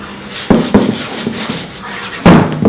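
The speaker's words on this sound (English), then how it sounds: "we're not sanding it all off, we're just trying to scuff it up a little bit so the primer will hold on" Kitchen cabinet trim being scuff-sanded by hand ahead of priming, heard as close, uneven rubbing strokes with a few sharper scrapes and bumps, no voices over it.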